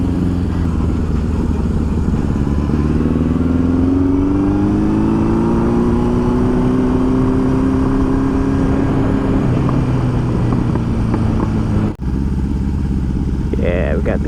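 After an idle adjustment, the Honda CB750 motorcycle engine idles steadily and close by, holding an even, loud putter with a slight rise and fall.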